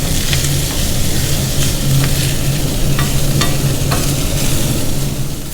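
Small salmon flakes seasoned with salt and ground pepper toast in a hot pan, a loud steady sizzle overlaid with repeated scraping stirs at a roughly regular rhythm.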